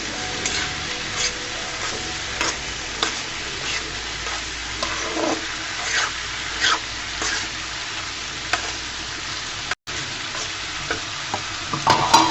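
Spices sizzle in a hot pan with chopped onion stalks and red chili powder while a spoon stirs and scrapes through them, giving a steady frying hiss broken by intermittent clinks and scraping strokes.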